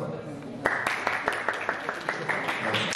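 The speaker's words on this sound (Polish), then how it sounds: "Dla Zuzi też brawa." A short burst of applause at a youth journalism training session: scattered hands clapping in a quick, uneven rhythm, with some voices underneath.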